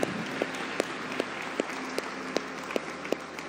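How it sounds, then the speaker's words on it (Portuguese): Applause from a church congregation at the end of an evening service, heard as a low, steady patter of clapping with a few sharper claps standing out at a regular beat, fairly faint and with no voices over it. "Dê uma salva de palmas a Jesus."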